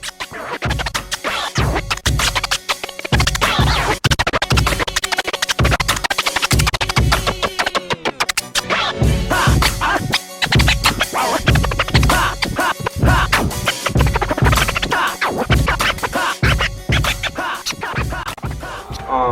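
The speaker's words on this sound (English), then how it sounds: "to be able to scratch over EDM, house music, along with the hip hop stuff" Continuous turntable scratching cuts rapidly back and forth over a loud, driving EDM, house or hip hop beat, with choppy rhythmic stutters running throughout.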